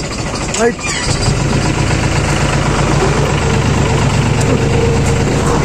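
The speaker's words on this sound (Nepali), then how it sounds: "गुरुजीले चाहिँ उताबाट ट्र्याक्टर चलाउँदै हुनुहुन्छ" A tractor engine starts and settles into a steady, loud idle close by, its chugging drone running throughout, with people talking over it.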